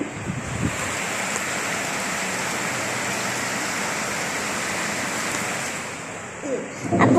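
Rain falling as a steady, dense wash of hiss that holds evenly for several seconds, with a few faint knocks near the start and end.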